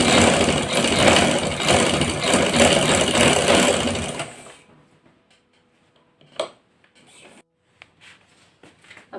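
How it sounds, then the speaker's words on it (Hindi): A sewing machine stitching a trouser seam, a loud steady mechanical whirr of rapid needle strokes for about four seconds, then stopping, followed by a few soft handling clicks and rustles. "अब ये सिलाई मैं पूरी ऊपर तक ले जाऊंगी।"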